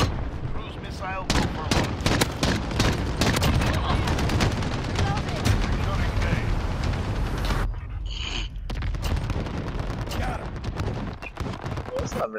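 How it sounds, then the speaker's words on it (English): Cruise missile strike in the video game Modern Warfare 2019 Ground War: loud, dense rumbling blasts and crackling gunfire rolling on almost continuously, with a brief lull near the end before the heavy booming returns. "Cruise missile"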